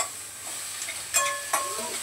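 Capsicum (shimla mirchi) stir-fried quickly over a high gas flame, a light sizzle with a couple of sharp scraping strokes of a spatula in the pan, close and brief.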